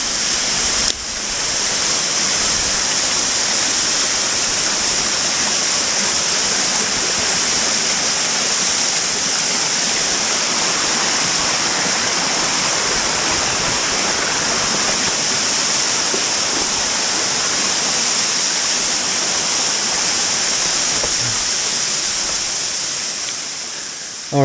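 Waterfall reached by a detour to its base on a bush bash, a loud steady roar of falling water sustained close by for the full length with no talking.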